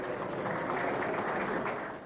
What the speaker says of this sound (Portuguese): Com os aplausos de vocês,